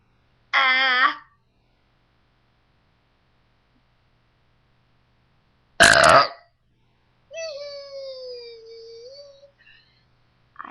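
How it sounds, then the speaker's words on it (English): A loud, deep burp from a woman, one prolonged belch standing alone, with a short vocal sound before it and a sharp noise in the middle of an otherwise quiet stretch. "I just wanted to show you how loud and how much I sound like a guy when I burp"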